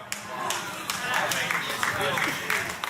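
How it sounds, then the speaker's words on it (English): Scattered applause from a small part of a church congregation during a sermon, a few hands clapping unevenly in a reverberant hall, continuing steadily for a few seconds. "For the 4 of y'all who are clapping"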